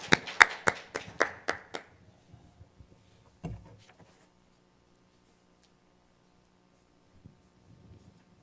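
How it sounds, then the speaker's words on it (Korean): A church congregation claps in a burst of about seven sharp, loud claps at the start of a Sunday service welcome for a deacon's special song, then falls mostly quiet with a single faint tap later. "우리 박수로 맞이하도록"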